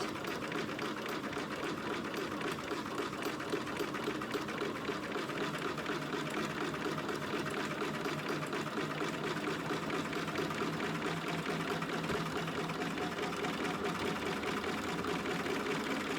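A sewing machine stitches a skirt onto a dog outfit with a steady, fast mechanical chatter that runs continuously and close up, with no pauses.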